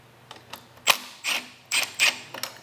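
A Torx 40 driver snugs up handlebar bolts on a 2008-2013 Harley-Davidson Street Glide, making a few close, quiet mechanical clicks and short ratcheting bursts with brief pauses between them.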